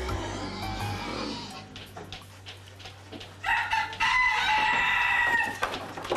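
Chickens and a rooster on a goat farm with a herd of about fifty goats, steady clucking near at hand, then a loud rooster crow rising over the hens toward the end.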